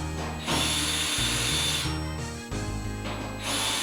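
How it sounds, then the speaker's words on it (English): A 1/4 inch power drill drives out the panel screws on a Whirlpool/Kenmore dryer in several loud, sustained whirring bursts with brief pauses and pitch changes between them, close to the microphone. "I'm using a 1/4 inch power tool. You can use socket wrench, but it's usually 1/4 inch on these screws."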